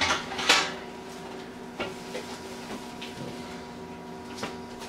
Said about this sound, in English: we got our pan right here, nice sheet pan